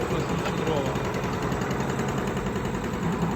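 A log splitter's engine runs at a steady idle, a constant mid-to-low droning hum with slight vibration and no change in pace.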